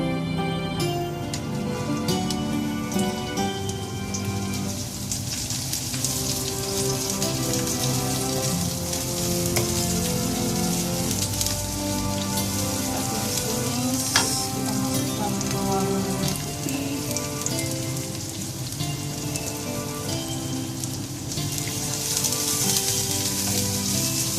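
Shallots sautéing in hot oil give a continuous, even sizzle like light rain, steady from start to finish, with background music playing over it.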